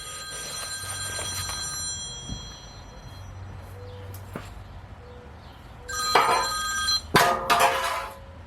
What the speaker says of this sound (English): Boss, the phone.